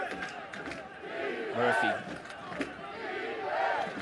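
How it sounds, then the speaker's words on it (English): Home crowd at a professional ultimate frisbee match cheers and roars in swelling waves, fairly distant and diffuse, with a commentator's voice and a brief shouted name over it. "The crowd for the first time tonight are really starting to get behind the home team here"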